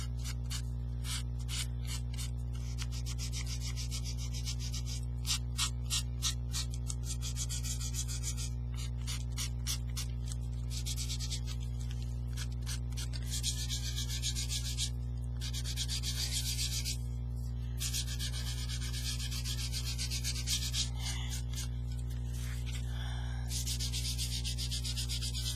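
Sandpaper rubbing along the paper edges and corners of a Christmas recipe box collage, a soft scratchy friction in repeated bursts over a steady low hum, with no talking.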